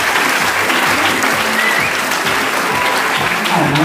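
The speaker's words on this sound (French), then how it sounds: "je pense qu'on peut les applaudir" A crowd applauds steadily and loudly, a thick wash of clapping from many hands lasting several seconds, with faint voices underneath.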